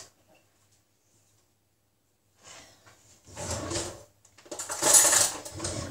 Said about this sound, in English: So let me just get my knife.